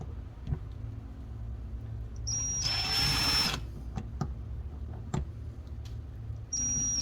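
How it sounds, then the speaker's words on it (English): A power drill boring pilot holes through stainless steel camp utensils gives one loud, steady whine of about a second, set among faint clicks and handling knocks. "Got our holes drilled."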